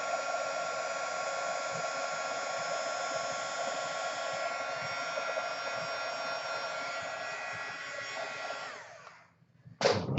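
Heat tool blowing hot air over embossing powder, a close, steady whooshing hum with a high whine that runs for about nine seconds, then cuts off, followed by a brief clatter.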